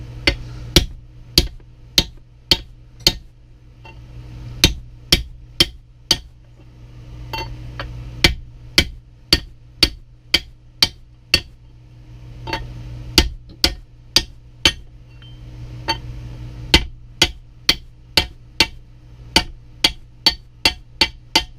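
Part being hammered into a 2013 Genesis Coupe OE differential during a rebuild: a long run of sharp, close metallic blows at a steady rhythm, broken by a few short pauses, with no talking.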